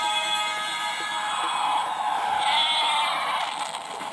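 A sheep bleats in a long wavering cry, loud and close, with no other sound around it.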